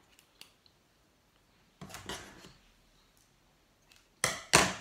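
Scissors snipping a piece of string for string art, a few sharp close cuts in short bursts separated by near silence.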